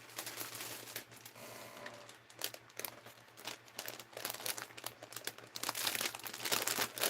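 Sheets of paper crinkle and rustle close by as they are gathered and slipped into a bag, with continuous soft crumpling and small scraping handling noises and no talking.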